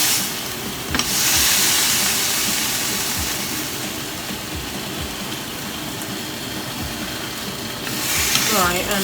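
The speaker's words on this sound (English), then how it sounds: "just wait for it to be fully fried" Bacon sizzles and crackles steadily in a hot frying pan, a dense hiss running throughout, with a few louder spits near the end.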